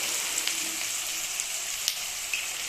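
Whole uncut garlic cloves and curry leaves fry in oil with an even, continuous hiss, broken by occasional faint pops, close and steady.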